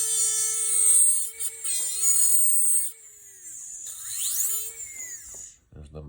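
A dental handpiece burr whines at a high, steady pitch while stripping wax from an articulator setup, the tone dipping and sweeping as it bears on the wax before cutting off near the end, with a voice speaking faintly beneath.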